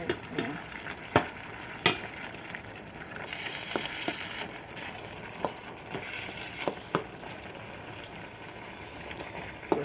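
Food being stirred in a pan, quiet sizzling under scattered sharp clicks and scrapes of a utensil against the pan, close and soft, with no talking.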